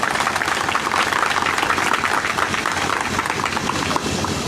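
Steady, dense clapping from an audience fills the whole stretch, a continuous wash of hand claps at even loudness during a political speech.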